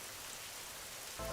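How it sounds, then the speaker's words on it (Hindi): Heavy rain falls steadily in a Hindi cartoon story, a dense, even hiss of downpour that runs on its own with no voices, swelling briefly at the end. "बारिश भी बहुत तेज हो रही है।"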